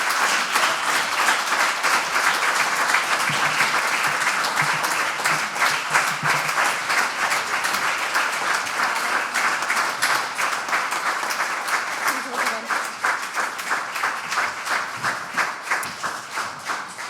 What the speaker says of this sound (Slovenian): Dajmo jih pospremiti z aplavzom.